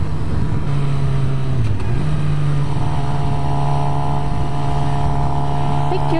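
A 2017 Suzuki GSX-R 750 is ridden while lane splitting through traffic, giving a loud, steady engine drone with heavy wind rush and a slight shift in pitch partway through.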